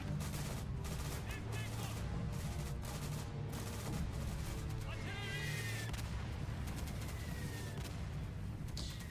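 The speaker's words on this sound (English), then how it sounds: "Request immediate barrage on objective Able." A video game artillery barrage rumbles continuously with rapid booms and gunfire bursts, loud and dense throughout, with voices faintly mixed in.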